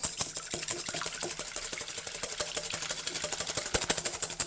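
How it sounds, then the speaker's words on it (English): An electric whisk beats egg whites in a bowl for meringue kisses, a continuous close whirring buzz with rhythmic rattling against the bowl, heard alone. "So I need my egg whites in the bowl, and I'm going to start whisking"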